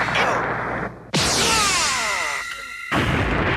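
Spirit Gun energy blast from the Yu Yu Hakusho anime, a loud sudden whooshing beam with a descending sweeping tone and booming burst, preceded and followed by other loud effects.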